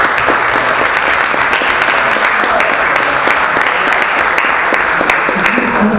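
A church congregation at a prayer and worship gathering in the São Paulo legislative assembly applauds loudly, a thick, continuous roar of many hands clapping that stays steady from start to finish.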